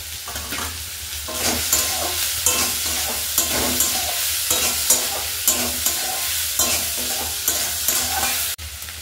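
Ginger garlic paste fries and is stirred in a pan for egg tadka dal, a constant sizzle broken by regular scraping strokes of the spoon, close and loud, with no talking.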